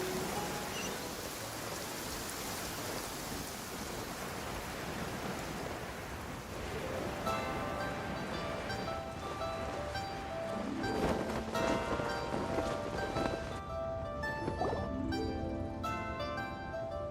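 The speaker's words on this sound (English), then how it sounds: "It's raining." Rain and thunder in the video game Genshin Impact, a steady dense hiss of rainfall that is loud and continuous throughout, with low rolling thunder rumbles and layered game tones surfacing in the latter half.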